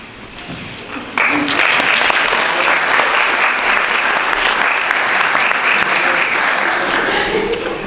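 A crowd at a National Honor Society induction ceremony breaks into loud, sustained applause after a brief quieter moment, clapping steadily for several seconds.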